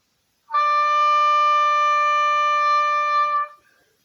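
An oboe holds one steady, clear long note on D for about three seconds, then stops, with silence before and after.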